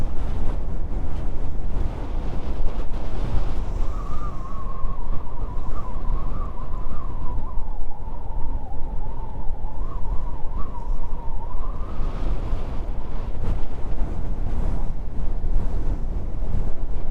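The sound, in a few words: ocean waves with wind on the coast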